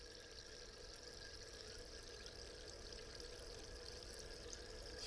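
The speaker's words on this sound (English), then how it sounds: "Look at all that bubbling." Strathmore sparkling spring water fizzing in a glass, a steady, faint hiss of carbonation bubbles that runs without a break and with no talk.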